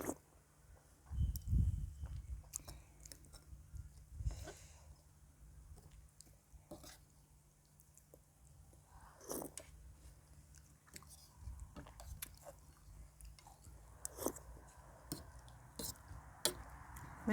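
A big bowl of kuay jap noodle soup eaten close up: soft, irregular chewing, slurping and wet mouth sounds with occasional clinks, continuing throughout at low volume.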